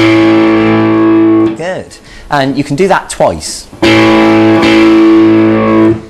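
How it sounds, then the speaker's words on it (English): Sustained plucked notes on the open fifth and fourth guitar strings ring out, broken in the middle by a brief spoken remark, then the strings ring again, bright and steady. "pluck the 5th string and the 4th string"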